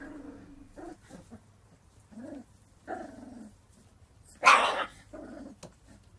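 Puppies three to four weeks old play-fighting in a litter, with a string of short growls and yips and one louder bark-like burst near the end, close by and with no talk.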